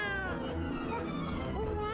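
A cat meows repeatedly in the Vertigo PC game, with drawn-out harmonic cries over a steady background hum and music.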